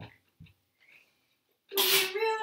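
A single sharp, loud sneeze bursts out right after a brief stretch of soft speech from a nearby voice.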